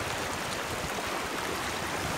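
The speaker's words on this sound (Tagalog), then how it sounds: "ito yung current tubig niya" Gray River current flowing from Ipo Dam toward Bustos Dam at midday, a steady broadband rush of moving water that stays even and continuous throughout, with no voices.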